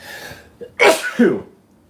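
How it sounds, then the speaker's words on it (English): A single loud sneeze, with a short sharp intake before it and the explosive burst following, nearby and clear against quiet. "hang on, I'm gonna sneeze."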